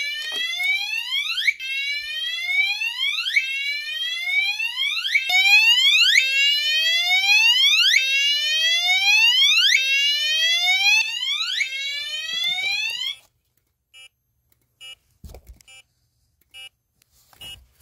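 A building fire alarm system sounds during a test, with loud repeating downward-sweeping electronic whoops in a steady rhythm for about thirteen seconds, then stopping, leaving faint scattered clicks.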